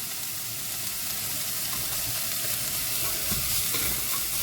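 Soup ingredients cooking and bubbling in a pot on the stove, a steady close sizzle with soft stirring scrapes running throughout, no voices.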